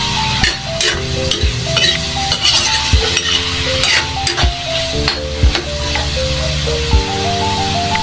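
Pork menudo being stirred in a pan with bay leaf and pepper, a close sizzle with repeated scraping strokes of a utensil against the pan at a steady rhythm, with music underneath and no talk.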